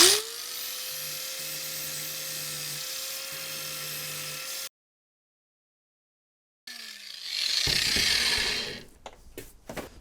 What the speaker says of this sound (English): now what we're going to do is grind off all this stuff and get a nice clean